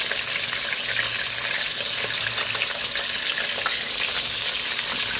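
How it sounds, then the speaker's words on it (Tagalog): Loud continuous sizzling of chicken frying in hot oil, a dense crackling hiss that stays steady throughout, close up. "Prito na po tayo ng ating chicken."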